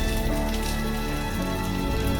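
Steady rain pattering on a surface, loud and continuous, with a constant hiss and no voices.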